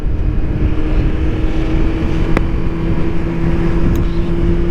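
Kawasaki ZX14R motorcycle riding along back roads, a steady continuous engine drone with a tonal hum and constant wind rush, loud and close throughout with no talking.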